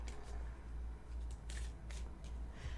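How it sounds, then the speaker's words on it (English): Gypsy Witch fortune-telling cards being shuffled by hand, a continuous close riffling rustle with soft repeated slaps and bursts, steady throughout with no talk. "So you shuffle while you ask your question."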